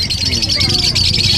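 Pet birds, including African lovebirds, chirp continuously at a Bocaue animal market in Bulacan, bright and rapid, close and loud, with a voice talking underneath.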